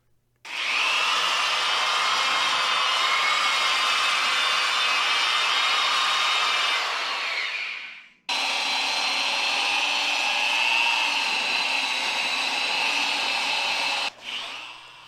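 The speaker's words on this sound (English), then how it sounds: "I start off using a flexible disc that I happen to have laying around that I originally purchased to strip paint off of the fenders" Power tool spinning a flexible abrasive disc as it strips epoxy from concrete control joints, a loud continuous grinding whine held for about seven seconds, a brief stop, then another long steady pass, close up with no talk.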